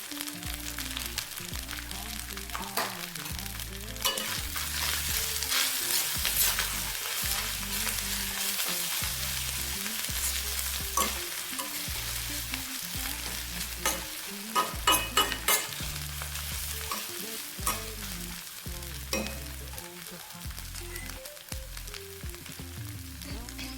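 Grated ginger and ground turmeric sizzle steadily in a hot pan for a village-style shukto curry, with a spoon scraping and stirring in a regular, rhythmic pattern throughout; close and fairly loud, no talking.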